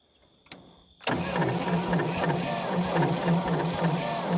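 A 1952 Dodge Power Wagon that sat buried to the axles cranks after a brief click, its starter churning in a steady rhythmic whir close by without catching.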